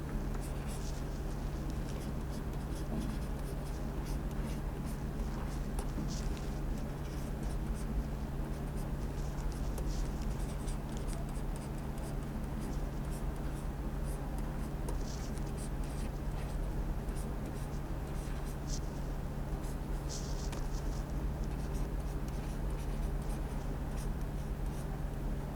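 Steady scratching of writing on a board during a lecture, continuous and fairly faint over a constant background hum, with no one speaking.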